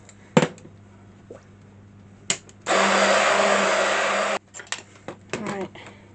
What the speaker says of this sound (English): I found my immersion blender this time